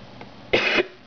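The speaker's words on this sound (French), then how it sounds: "je tousse encore" A single sharp cough from a person who is ill, a short loud burst with a quieter throat sound just before it and another cough starting at the very end.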